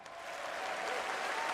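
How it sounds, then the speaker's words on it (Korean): Steady, dense applause from a large crowd at a political campaign event for a presidential candidate and senator, loud and continuous throughout with no voices standing out. "많은 사람들의 박수갈채를 받으며 무대 위에 서게 되죠."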